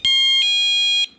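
A 1byone wireless motion detector receiver sounds its alarm tone at the lowest setting: a piercing, high electronic beep that shifts pitch partway through, loud and clean for about a second in an otherwise quiet room.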